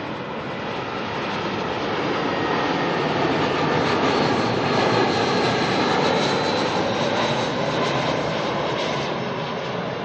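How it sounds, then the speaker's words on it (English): Air New Zealand flight NZ448 arriving at Auckland Airport from Wellington: a broad, loud jet engine rumble that builds slightly and sustains steadily, with no talking. "NZ448 coming on in from Wellington."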